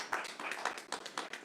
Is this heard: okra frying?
no